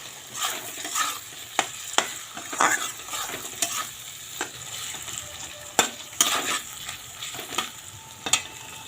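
Ginger-cumin paste frying in a pan for a vegetarian banana-flower dish, a steady close sizzle broken by sharp scrapes and knocks of a spoon stirring it.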